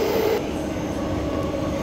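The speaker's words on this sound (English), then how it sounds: "Fremantle service leaving platform 2." Perth suburban train on the Fremantle line pulling away from a station platform, a steady loud rumble with a brief higher tone at the start that settles into continuous running noise.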